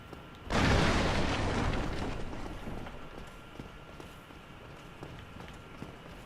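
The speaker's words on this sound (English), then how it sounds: "Black fire bombs, they're nice." Black fire bombs exploding in the video game Dark Souls Remastered: a loud roaring blast that tails off into a long rumbling decay, followed by scattered footsteps and clatter in the background.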